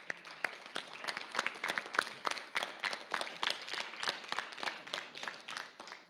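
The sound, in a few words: applause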